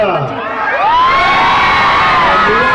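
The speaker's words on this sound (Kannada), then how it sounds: "ಜನತೆಯ ಒಂದು ಕೂಗು ಅಲ್ಲಿ ಕೇಳಿದ್ರು" A loud crowd in Hubballi cheers, whoops and shouts for the actor Upendra, a dense continuous roar of many voices close by with rising yells.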